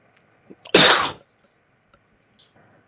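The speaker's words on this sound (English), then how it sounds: "That was a cough." A single sharp, loud cough from someone whose coffee went down the wrong pipe, with a faint breath before it and quiet afterward.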